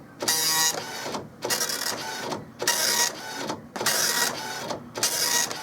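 An Okidata Microline 184 Turbo 9-pin dot matrix printer prints in loud, harsh buzzing bursts about a second long, separated by brief pauses as the head returns, repeating steadily throughout.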